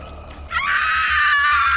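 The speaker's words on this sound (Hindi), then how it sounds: "निधि के हलक से चीख निकल गई" A woman lets out a sudden, sustained high-pitched scream of horror, loud and close, rising abruptly and holding steady in a dramatized scary story.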